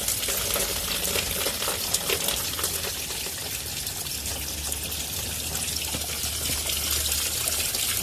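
Engine coolant drains from a Renault Scenic 1.9L DTI during a water pump replacement, a steady close splashing trickle of liquid running without pause and with no voices.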